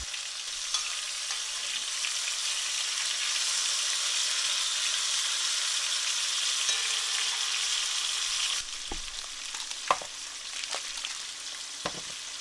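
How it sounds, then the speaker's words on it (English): Corn, both regular and fire-roasted kernels, frying in a pot gives a steady, dense sizzle with crackling throughout, and a few sharper stirring clinks and pops near the end as the hiss drops slightly. "I'm going to fry up some corn"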